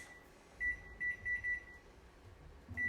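An oven timer beeps in a home kitchen, sounding a short row of five even, high electronic beeps with a sixth at the end, moderately loud against a low background hum and no talk.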